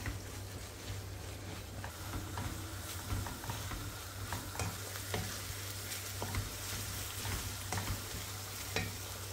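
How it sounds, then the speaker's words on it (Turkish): Onions, garlic, green pepper and red pepper sautéing in a pan, a steady faint sizzle broken by repeated light scrapes and taps of stirring. "İki diş sarımsak, bir adet yeşil biber, bir adet kırmızı biber ilave edip kavurmaya devam ediyoruz."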